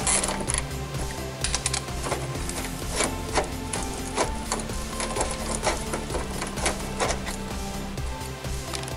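A 10mm socket wrench ratchets off nuts on the inside of a Chrysler PT Cruiser front bumper, giving a steady, close, busy mechanical clicking and whirring that runs throughout.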